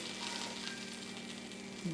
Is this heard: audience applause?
no